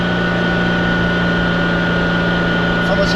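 The naturally aspirated engine of a Ferrari Dino 246 GT holds a steady, close, humming drone at constant revs, while a voice talks over it.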